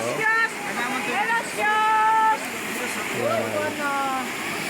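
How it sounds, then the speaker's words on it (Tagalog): A river stream in Davao Oriental where people bathe rushes steadily in the background while someone talks, with other voices and bird-like whistles over the continuous water flow. "ito po yung sapa na naliliguan natin ngayon idol"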